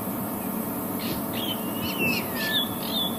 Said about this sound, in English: It is a giant eagle owl, the biggest owl that we get here.